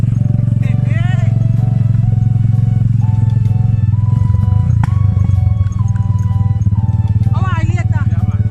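A motorbike engine drones steadily and loudly throughout a ride through rural Jamaican countryside, with a continuous low rumble and wind, while voices chat and shout over it.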